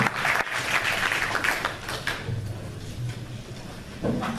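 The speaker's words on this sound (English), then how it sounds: "Give them a round of applause." Audience at a Vancouver city candidate forum clapping for the candidates, a moderate, uneven patter of applause that thins out toward the end.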